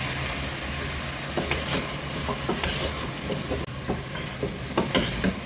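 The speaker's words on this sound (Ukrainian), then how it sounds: "Смажу на великому вогні приблизно до 5 хвилин, постійно перемішую." Pork belly and potatoes sizzle steadily in a hot pan on high heat while a utensil scrapes and stirs in a series of short, close strokes.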